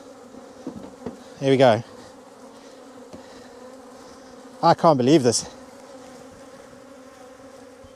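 Angry honey bees buzz loudly in two brief bursts close to the microphone, with someone speaking between and over them.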